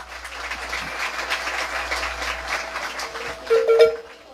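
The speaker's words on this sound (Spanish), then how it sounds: "Escuchen esos aplausos." Applause from an audience at a live marimba performance in San Antonio, Chiquimula, a steady broadband patter lasting throughout with a louder surge near the end and a brief tonal sound at the close.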